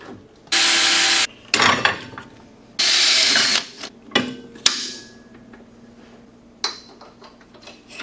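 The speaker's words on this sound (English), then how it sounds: "I'm going to go ahead and remove the 2 bolts holding the brake caliber retaining bracket on." Bolts are removed from a brake caliper retaining bracket on an off-road vehicle during an A-arm install: bursts of loud, close impact or power-tool whirring alternate with metallic clanks and rattles, then quieter clicks and a final buzzing burst.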